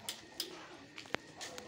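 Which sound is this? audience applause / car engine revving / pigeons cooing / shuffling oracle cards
pigeons cooing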